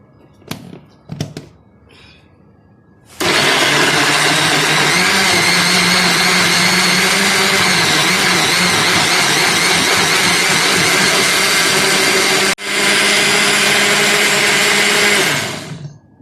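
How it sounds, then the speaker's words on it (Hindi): An electric grinder whirs at high speed, crushing tomatoes and green chillies for qeema karela; a few faint kitchen clatters, then a loud continuous grind runs with one brief break before stopping. "अब मैं इनको ग्राइंड कर लूँगी"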